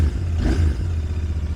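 A 2023 Royal Enfield Interceptor INT650 Mark II motorcycle engine rumbles low and steady, with a brief rev swelling near the start before settling back to a throaty idle.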